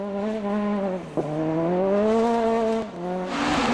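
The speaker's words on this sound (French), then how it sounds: "ça, c'est la Peugeot 206 Super 600 du deuxième de la catégorie" A Peugeot 206 Super 1600 rally car at the South Swedish Rally 2003 revs hard, the engine note climbing through gears with quick shift breaks, loud and close, before a rougher burst at the end.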